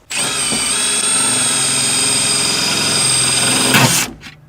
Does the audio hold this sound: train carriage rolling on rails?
no